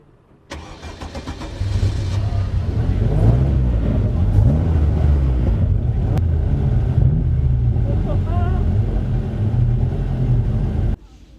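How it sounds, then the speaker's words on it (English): A formula racing car's engine at Silverstone starts up and then runs steadily and loudly nearby, with a droning idle and small revving wobbles before cutting off at the end. "the engine is on and we are ready to go"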